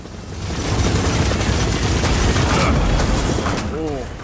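A missile explosion in the Gears of War 4 video game, a loud, sustained rumbling blast with heavy low-end roar lasting several seconds, a voice briefly audible near the end.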